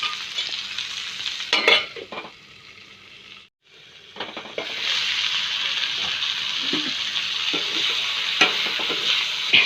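Taro stolon bhaji fries in a pan with a steady, loud sizzle. A spatula scrapes and stirs now and then, and the sizzle briefly drops out once before returning stronger.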